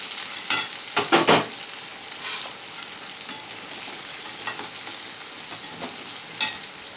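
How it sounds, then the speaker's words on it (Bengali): Boiled young jackfruit fries in oil in a kadai, a steady soft sizzle broken by several sharp scraping stirs near the start and another later on. "অল্প একটু ভেজে নেবো তাহলেই হয়ে যাবে"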